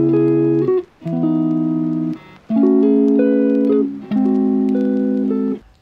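Short sampled guitar melody played through a jazz amp with a lo-fi preset and dulled highs, clean sustained notes in a few separate phrases with brief gaps, close and alone.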